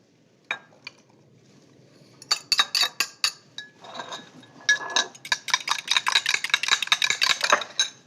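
A whisk clinks rapidly against a bowl while water and oil are mixed for walnut pesto, starting with scattered taps and building into a dense, fast run of bright metallic strokes, near and loud with no talk.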